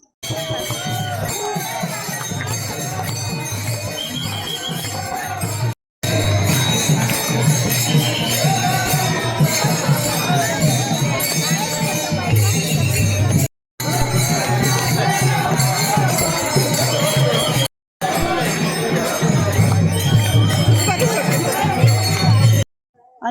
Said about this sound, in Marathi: बघा किती गर्दी दिंडीमध्ये